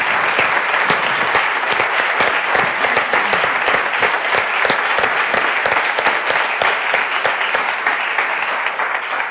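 Loud, sustained applause from a large audience, dense clapping filling the whole stretch without letting up.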